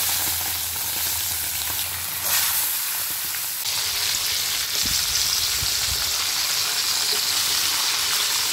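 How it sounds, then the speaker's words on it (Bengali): Pieces of meat hit hot oil in a pan and sizzle loudly and steadily, with a bright hissing fry that carries on unbroken and alone, with no talking. "তেল আমার গরম হয়ে গেছে আমি মাংসগুলো দিয়ে দিচ্ছি"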